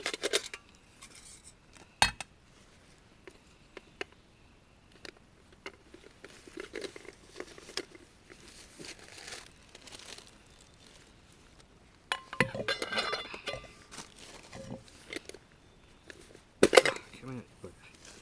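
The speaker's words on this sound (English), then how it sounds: "It's a Trangia alcohol stove." Metal parts of a Trangia alcohol stove clinking and rattling as they are handled at a wild camp, scattered light clinks in bursts with a louder cluster near the end, with someone talking softly at times.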